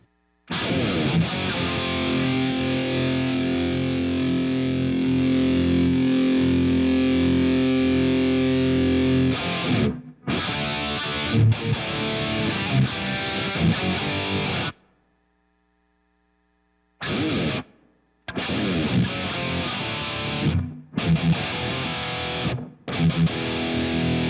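Distorted electric guitar riffs through a Positive Grid Spark 40 practice amp's room studio reverb, with a spacious reverberant tail, played in bursts separated by brief silences and short stabbed chords.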